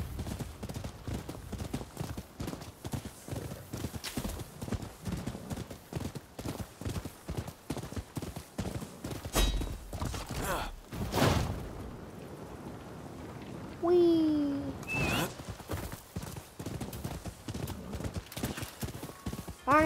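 Steady galloping horse hoofbeats in the video game Rise of the Ronin, quick and continuous, with rain-like patter and a brief whinny, loud and close throughout.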